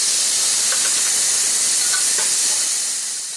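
Beans curry tempered with garlic sizzles steadily in a pan, a continuous bright hiss with faint crackles and no voices.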